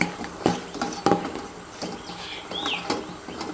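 A spoon stirs a homemade whitening soap mixture in a container, giving close, intermittent clinks and soft scraping taps at an uneven pace, with no talking over it.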